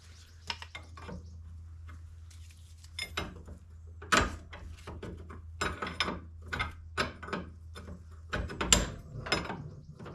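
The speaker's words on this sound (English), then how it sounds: "Get the rest of that nut off of there." A nut is loosened and spun off the hub of a 2000 T4 by the lower ball joint, giving irregular ratchet clicks and metallic taps over a low steady hum, close by, with no talking.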